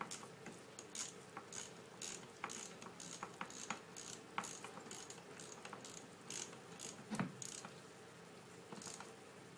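Ratchet tightening an 8mm nut on a Ford Transit starter motor, faint rapid clicking pawl strokes in a steady rhythm with small metallic knocks, heard close and alone.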